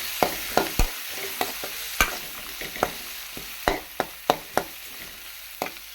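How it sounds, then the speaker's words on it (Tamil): Garlic paste fries in a pan for sambar, a low sizzle broken by sharp irregular clicks and taps of a spoon stirring against the metal, close and fairly quiet, no talking. "பூண்டு மட்டும் பேஸ்ட்டாக அரைச்சி வச்சுருக்கேன் அதை சேர்த்துக்கிறேன் ஓகேங்களா நல்லா வாசனை வர வரைக்கும் நல்லா வறுத்துக்கணும்"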